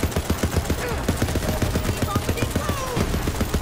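Rapid automatic gunfire from the video game Borderlands 3, a dense run of sharp repeated bursts lasting throughout, loud and close over steady game background noise.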